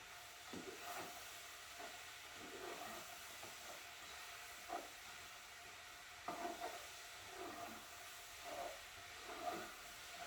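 A spoon stirs a chicken curry with onions and peppers in a pan, giving a soft steady sizzle and hiss with quiet periodic scraping strokes, low in level and with no talking.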